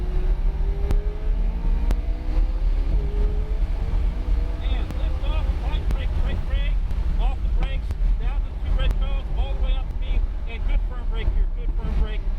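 A McLaren 570S sports car drives hard on a track, its engine droning steadily throughout with rising pitch under acceleration, mixed with wind rush, while an instructor talks over it.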